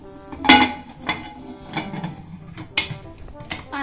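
A pressure cooker lid, with its whistle and gasket removed, being fitted and locked over an eggless fruit cake, giving several close metallic clanks and scrapes, one sharp knock early and another near the end.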